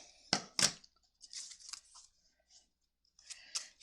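Scissors cut ribbon up close with two sharp snips, followed by softer rustling and a few more quiet cuts as the ends are trimmed, with no voices.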